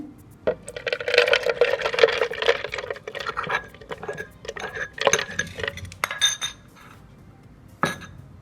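Glassware clinks and rattles as a spoon stirs coffee mixer into cold milk in a glass, a quick run of bright metallic taps, then a pause and one last clink.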